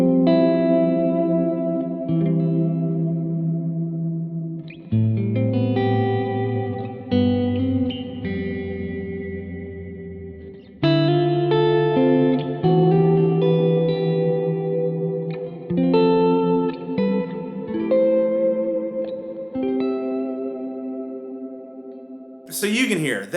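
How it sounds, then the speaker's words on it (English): Electric guitar chords and single notes played through a Line 6 Dynamic Hall reverb pedal on its Big setting, each phrase blooming into a long, wide wash that lingers between strums, loud and alone with no talking. "So you can hear, that is a big reverb."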